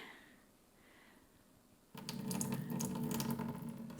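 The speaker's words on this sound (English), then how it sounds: "I'm going to pour the liquid out carefully." A quiet stretch gives way to a sudden steady stream of liquid pouring out of a container of soaking tomato seeds, splashing continuously and fairly close for the last couple of seconds.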